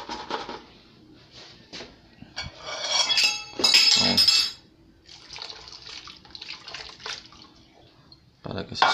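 Chicha morada is poured into a glass, giving a bright liquid splash with glassy clinks that swells for about two seconds mid-clip, while quieter kitchen handling and a voice come and go around it.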